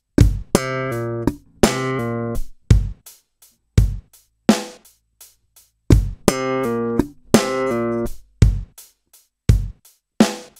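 Slap bass playing a stomping phrase twice through, thumb slaps on the low string and popped notes in short clipped bursts with gaps between, loud and close with no talking.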